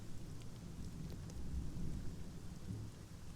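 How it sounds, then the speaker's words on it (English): Stormy ambience from the game Sunless Skies: steady rain and wind wash through the background with low rumbling swells, no voices present. "The wind howls in the trees and the skies threaten rain."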